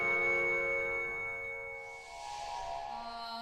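A bell rings in the Professor Layton vs. Phoenix Wright video game, a sustained, moderately loud chime whose tone fades and shifts into a darker resonant hum after about two seconds.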